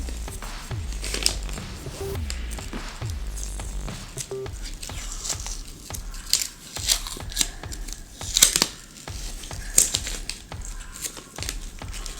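Protective film being peeled off a new RTX 5070 Ti graphics card or eGPU enclosure, with crinkling, tearing rustles and sharp crackles over about twelve seconds, handled close up.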